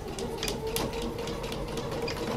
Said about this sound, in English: we're going to bring that to the sewing machine and we're going to sew that seam